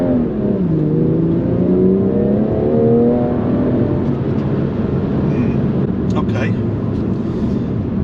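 BMW M240i launching hard under launch control, a loud close engine roar climbing in pitch through rapid gear changes, sustained throughout with faint talk near the end.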